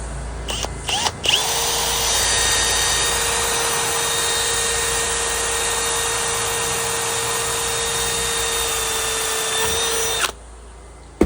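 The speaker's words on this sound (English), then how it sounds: "I just drill through the center of that" A power drill drilling through the center of a fitting whirs steadily for about nine seconds at close range, loud and continuous, then cuts off abruptly.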